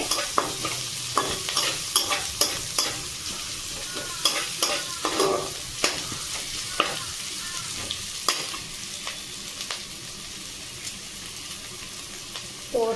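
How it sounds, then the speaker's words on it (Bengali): Grated ginger fries in oil in a pan while a spoon stirs it, repeated scraping strokes in an irregular rhythm over a continuous close sizzle. "অল্প একটু আদাও আমি নিয়েছি গ্রেট করে দিয়ে দিলাম একটু নেড়ে চেড়ে নেবো"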